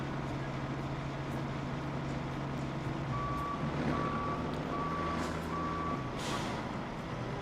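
A heavy truck engine labours steadily up a hill in the Roadcraft video game, with a continuous low drone, a repeating reversing beep from another vehicle midway, and a hiss of air brakes near the end.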